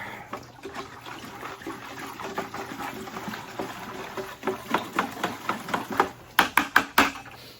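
Water sloshes and swirls in a container as it is stirred, building into louder rhythmic splashes toward the end.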